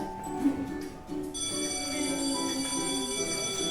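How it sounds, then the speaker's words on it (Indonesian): An electric school bell rings for break time, a steady bright tonal ring that sustains continuously after a brief lead-in, loud and close. "bunyi bel menandakan jam istirahat sekolah"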